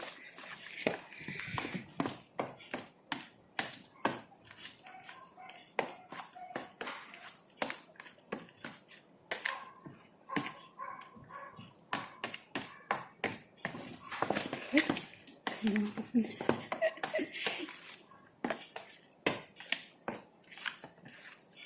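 Meatball mixture for Filipino bola-bola being stirred in a bowl, a steady run of quick, light clicks and taps with soft wet squelches, continuing throughout at a moderate, uneven pace.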